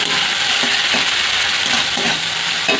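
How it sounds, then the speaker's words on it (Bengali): Spice paste for an eggplant and prawn curry sizzles and is stirred in a pan with very little oil, producing a loud, continuous frying hiss with faint scraping strokes and no talking. "সব কিছু একসঙ্গে ভালোভাবে কষিয়ে নেব।"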